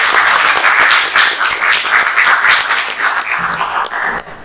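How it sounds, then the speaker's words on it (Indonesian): Applause from a vocational high school class (grade XII electrical lighting installation) for a student named Bani, steady close clapping from a roomful of students that tapers off near the end. "Silakan tepuk tangan lagi untuk Bani."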